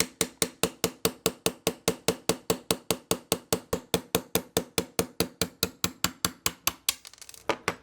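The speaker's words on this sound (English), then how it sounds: "So we'll take our 3/32 inch punch, start in the back one here, tap it right out." A 3/32 inch punch is tapped against a frame pin in a SCCY CPX-2 pistol, giving about thirty crisp metallic taps in a steady, even rhythm, close and alone, before a brief scrape at the end.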